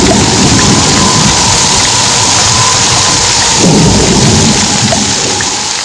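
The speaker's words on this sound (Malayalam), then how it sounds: "താമസിയാതെ ഇടിവെട്ടോടുകൂടി മഴ പെയ്തു." Heavy rain and thunder roar loudly and continuously as a storm sound effect in a Malayalam comedy show, with a deeper rumble swelling partway through and no talk.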